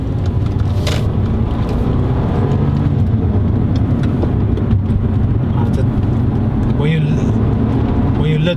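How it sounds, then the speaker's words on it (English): Mercedes-Benz A250 exhaust in sport mode, a loud, steady engine drone and road rumble heard from the cabin while driving, continuous throughout with a few brief higher-pitched chirps. "And the exhaust makes a very nice sound in sport."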